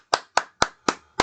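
Five sharp, evenly spaced hand claps from a single person, close and loud, given in approval of a suggested kick-scooter speed-limit map for Suwon.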